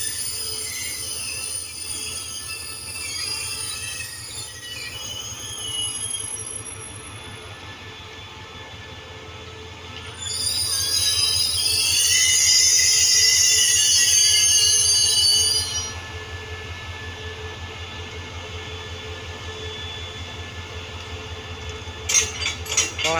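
Two QSY diesel-electric locomotives, numbers 5241 and 5246, haul a rake of CNR passenger cars past on a performance test run. A steady rail rumble rises to a loud, hissy peak as the train passes and then eases off, with clicks near the end.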